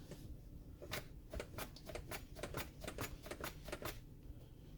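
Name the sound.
knife slicing lemon cucumbers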